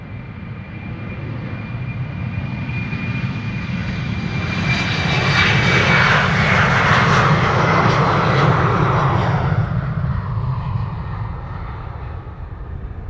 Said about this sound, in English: First up, Embraer 190 time, KLM flight 1711.